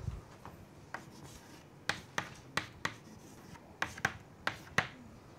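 Chalk or marker strokes on a board in a lecture hall, a series of sharp taps and short scratchy strokes in an irregular rhythm, fairly close and alone without talk.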